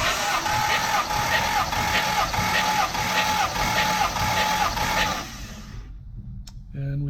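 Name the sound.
Jaguar XK150 engine cranking during compression test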